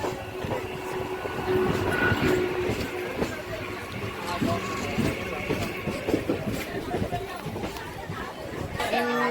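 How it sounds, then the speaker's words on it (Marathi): A MEMU train rumbles along with rhythmic rattling and clatter, people chattering inside the carriage. "मेमो ट्रेन आली आमची सव्वा तीनला आली"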